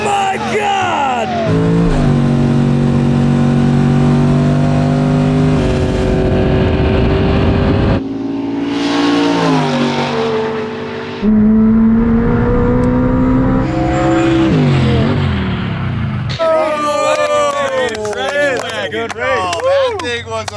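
A McLaren and a wagon race and accelerate hard, with loud engine notes rising through the gears and shifting pitch as they pass, while excited voices shout over the noise.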